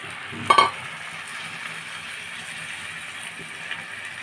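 A sugar mixture with a little water is stirred in a pan. One short clatter of the spoon comes first, then a soft, steady scraping and sizzling hiss continues close by, with no one talking.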